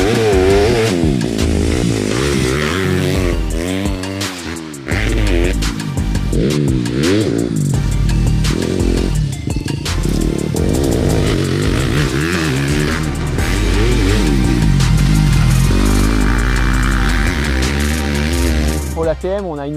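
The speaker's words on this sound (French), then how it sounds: "la moto qu'on a essayée aussi, elle était très bruyante" A loud 2020 enduro 250 four-stroke motorcycle fitted with an aftermarket Akrapovic exhaust revs and roars close by, its engine note repeatedly rising and falling, with voices talking over it.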